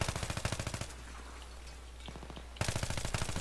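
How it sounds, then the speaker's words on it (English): Automatic gunfire in the Battlefield 3 video game: a fast, regular stream of shots that drops away for under two seconds, then resumes just as loud. "They're just shooting at me, all of them."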